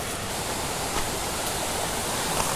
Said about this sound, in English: there's like a waterfall up here